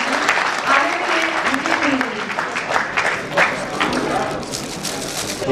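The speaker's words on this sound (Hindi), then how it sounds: "जोरदार तालियों के साथ आप उनका अभिनंदन कीजिए।" Audience applause welcomes a guest onto the stage at an awards disbursement ceremony, many hands clapping continuously while a voice talks over it.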